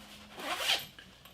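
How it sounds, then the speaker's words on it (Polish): Zippers on a padded gun case with thick foam are drawn in one smooth, close rasping pull lasting about a second. "Suwaki są solidne."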